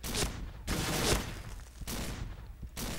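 A Remington 870 shotgun from a video game weapon sound pack fires four loud, close blasts at roughly even intervals, each with a short booming tail and no talk.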